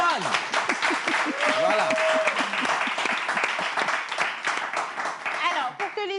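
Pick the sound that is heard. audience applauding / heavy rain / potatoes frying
audience applauding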